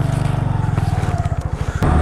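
An engine during a break-in ride in the desert foothills, a steady rapid low throb that keeps an even pulse, close and loud, surging briefly at the end.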